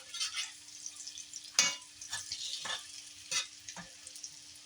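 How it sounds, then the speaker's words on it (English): Hot water cornbread patties of cornmeal and flour frying in a pan, a steady close sizzle broken by several sharp crackling pops and occasional scraping stirs. "They're frying."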